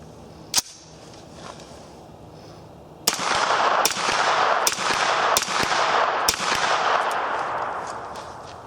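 A 9mm AR-15 rifle fires from a 20-round C Products magazine: one isolated shot, then a quick string of about six loud, sharp shots with ringing tails, close to the mic.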